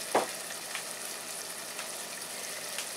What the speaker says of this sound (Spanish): le vamos a ir agregando poco a poco nuestras verduras